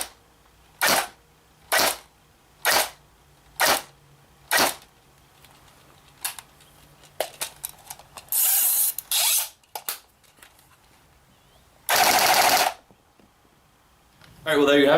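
An ICS L86LSW airsoft light machine gun fires single shots through a chronograph, sharp pops at a steady one-per-second pace, then a quick irregular cluster and a couple of longer bursts, close and loud against a quiet background.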